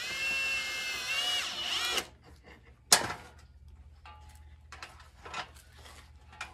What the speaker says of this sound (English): I'm just using wood screws, decking screws, to fasten these lamp holders to this board.